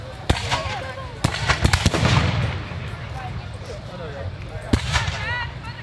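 Musket volley at a Battle of Great Bridge re-enactment: several sharp, loud cracks, some clustered and slightly staggered, then another pair later, with outdoor crowd murmur and talk underneath.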